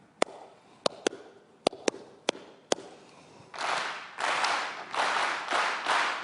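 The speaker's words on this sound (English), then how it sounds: "I'm going to clap a pattern." Sharp hand claps tapped out in an uneven rhythmic pattern by a single person, then a loud burst of many people clapping the pattern back in ragged, overlapping waves.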